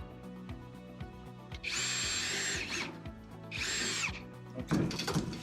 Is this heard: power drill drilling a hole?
yes